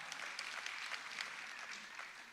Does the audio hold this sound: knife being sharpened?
no